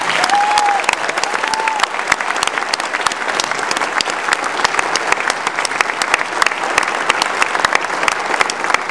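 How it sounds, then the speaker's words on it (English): Audience at a Day of Remembrance event at the Japanese American National Museum gives sustained, steady applause, dense and fairly loud throughout, with no speech over it. "you can give them another round of applause."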